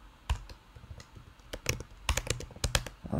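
Typing on a computer keyboard, quick irregular clicks in bursts with short pauses, close and fairly quiet, no talking.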